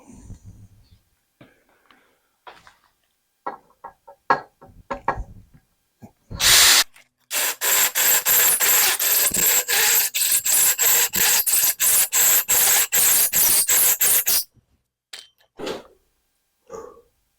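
A hole saw cuts through the base of a Twister MKIII fly tying vise in repeated bursts, a loud, continuous grinding rasp lasting several seconds between short scrapes and clicks, with quiet pauses before and after.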